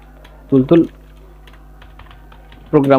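Soft, scattered key clicks come from someone typing on a computer keyboard while entering C code. A voice speaks in two short bursts, at the start and at the end.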